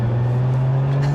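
A 2024 Lotus Emira's supercharged engine holds a loud, steady, close-up drone, with an even low hum and no talk.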